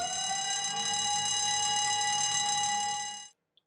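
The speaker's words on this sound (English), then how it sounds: "an evacuation alarm will be triggered from the weighbridge" A site evacuation alarm sounded from the weighbridge at a wood materials yard: a steady, loud electronic siren tone with layered harmonics holding for about three seconds before cutting off abruptly.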